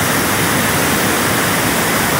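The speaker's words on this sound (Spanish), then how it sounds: "aquí está de fuerte el agua" A fast-flowing mountain river, swollen and running strong near a road washout on the Alóag–Santo Domingo highway, rushes downstream in a loud, dense, unbroken roar of turbulent water close to the listener.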